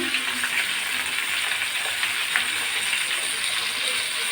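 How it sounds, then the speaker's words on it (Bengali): Pointed gourd (potol) fries with salt in a pan, making a constant, close crackling sizzle at a steady level with faint stirring underneath. "আমি পটলগুলো ভালো করে নেড়ে চেড়ে ভেজে নেব"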